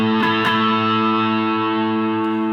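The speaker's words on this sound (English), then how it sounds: "So the Tube Screamer, and then this like cheaper pedal that I have just kind of gives me a little more gain." An electric guitar rings out through a Tube Screamer stacked with a second, cheaper gain pedal: one sustained, heavily distorted chord after a couple of quick strums, with thick, buzzing harmonics and no talking.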